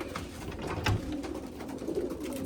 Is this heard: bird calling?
yes